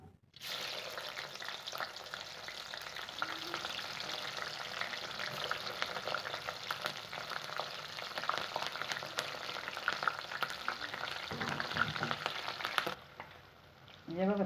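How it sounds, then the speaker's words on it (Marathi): Green chillies fry in hot oil on a lowered gas flame, a dense continuous sizzle and crackle that holds steady for most of the stretch before cutting out near the end. "आता त्या वड्याबरोबर खायला ना आपण या मिरच्या तळून घेऊ"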